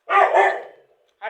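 Two pet dogs at home bark loudly and close by: one long, rough bark followed by a short second bark after a pause.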